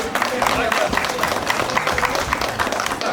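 Guests at a Zakarpattia wedding, during the bride ransom custom, applaud after the ribbon is cut, a continuous loud patter of many hands clapping, with voices mixed in.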